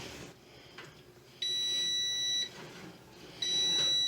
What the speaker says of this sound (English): There goes that pesky timer again.